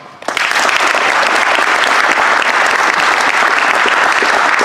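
Applause breaks out suddenly at a Finnish basketball coaching lecture, jumping from quiet to a loud, dense, sustained roar of many hands clapping that holds steady to the end.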